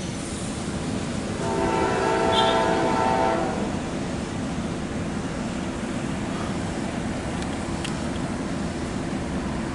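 A CSX mixed freight train passing on a two-track line, its horn sounding loud for a couple of seconds over the continuous heavy rumble and roar of the passing cars.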